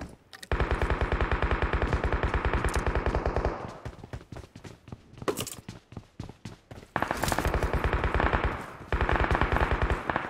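Rapid automatic gunfire in the mobile battle royale game PUBG Mobile, loud sustained bursts of evenly spaced shots broken by scattered single shots and short pauses, with no talking.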